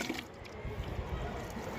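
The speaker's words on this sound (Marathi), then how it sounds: "असं हलकं पाणी द्यायचं." Water trickles and splashes softly into dry soil in a potted adenium, a low, steady wet pour with faint drips throughout.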